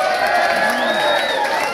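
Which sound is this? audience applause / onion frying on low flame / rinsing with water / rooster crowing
audience applause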